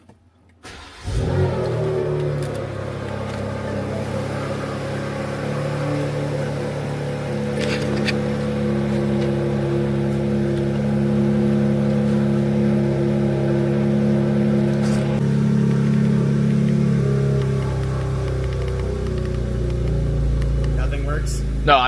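A Can-Am Maverick X3 side-by-side engine cranks and fires, then idles and revs with a rough, steady drone close by, while people talk over it.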